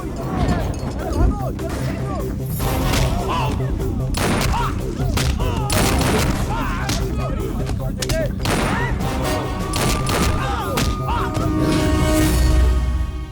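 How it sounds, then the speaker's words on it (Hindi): Gunfire erupts at a party in a Hindi-dubbed South Indian action film scene, rapid bursts of shots and thuds mixed with loud shouting voices and background score throughout. "यहाँ पार्टी में फायरिंग हो रही है।"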